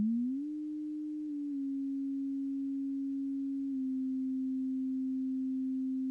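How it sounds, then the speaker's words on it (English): A steady, pure, glassy tone from a Moog Matriarch synthesizer, its LFO tuned up an octave, holds a single pitch with faint upper harmonics, stepping slightly higher early on and then sustaining smoothly. "If we want to get more of a glassy type tone, we're going to need our LFO"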